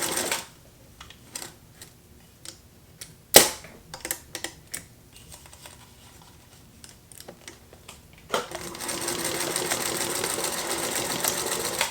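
A Singer Featherweight sewing machine pushes its needle through thick material, first in slow isolated clunks and punches, then breaking into a steady loud whirring run of stitching near the end, heard close up with no talking.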